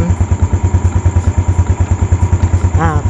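Yamaha Jupiter Z1 motorcycle engine running at idle, a close, steady, rapid thumping putter with even pulses throughout and a brief brighter whine near the end.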